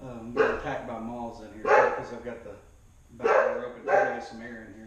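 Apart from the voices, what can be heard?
dog barking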